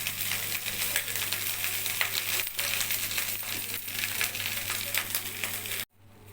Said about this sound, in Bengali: রাইসটাকে একটু ভালো করে ভেজে নিয়ে